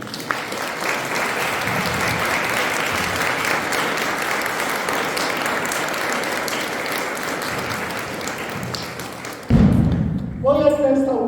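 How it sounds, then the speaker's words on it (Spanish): A church congregation claps together during a sermon, a sustained dense wash of applause that holds steady for several seconds before breaking off into a few thumps and a voice. "Denle un aplauso al Señor."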